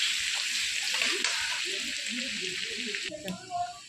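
Garlic frying in oil in a pan for aloo puri makes a soft, continuous sizzle while a voice talks over it throughout.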